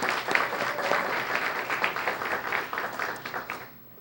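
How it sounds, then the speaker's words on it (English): A school Student of the Month audience claps warmly for a departing governing board president: a dense burst of applause that holds steady for a few seconds, then quickly dies away. "ladies and gentlemen, a nice round of applause for Mr."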